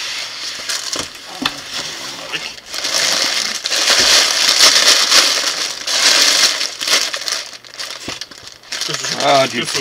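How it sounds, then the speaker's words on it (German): A plastic bag from a BlueBrixx Pro Western Little Cottage building set crinkles and rustles loudly up close, in bursts of crackling handling with a voice talking briefly. "Da ist noch irgendeine Tüte zwischen dem Buch."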